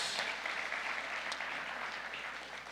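Awards ceremony audience clapping for a brewery winner, a continuous crowd of hands that stays even and moderately loud, gradually easing slightly toward the end.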